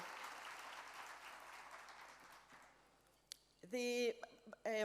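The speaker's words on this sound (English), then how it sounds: "I saw a lot of you were joining in a very big round of applause" An audience at a women's leadership summit claps steadily, the applause fading away before a voice begins speaking close by.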